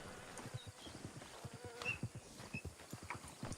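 Horse hooves clip-clop in a steady walking rhythm in a video game, a quick series of faint, close hoof knocks over a low background hum.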